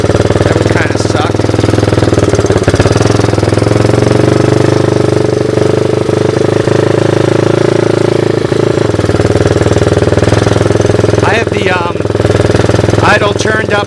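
A Honda 185S ATC three-wheeler engine idling loud and close, a steady rapid thumping drone with a slightly raised idle, running continuously with faint background noises near the end.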